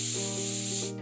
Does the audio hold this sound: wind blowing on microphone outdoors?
no